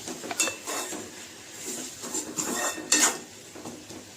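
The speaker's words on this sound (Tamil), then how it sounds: "நல்லா மிக்ஸ் பண்ணிவிட்டு தக்காளி வந்து நல்லா கொலைய வதக்கிக்க வேணும்" Tomatoes sautéed in a pan for vegetable masala kuzhambu, a spatula scraping and knocking against the pan in short repeated strokes, close up with no talking.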